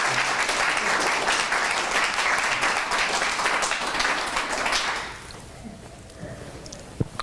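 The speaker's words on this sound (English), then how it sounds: "can we give Pete a big round of applause?" A seminar audience bursts into sustained applause for a presenter at a coaching event, dense clapping for about five seconds before it fades into quieter room noise with a few stray claps.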